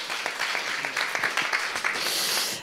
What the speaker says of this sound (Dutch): Een groot applaus voor Misha.